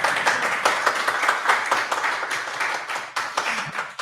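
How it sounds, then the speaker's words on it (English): Dense, steady applause from a conference audience at the Eurovisions International Conference on public service broadcasting, a continuous wash of many hands clapping at even loudness for several seconds with no speech over it. "Applause."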